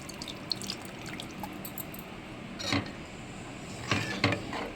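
Freshly blended fruit juice being poured from a mixer jar into a bowl gives a close trickle and splash, with a few louder pouring bursts and drips near the end.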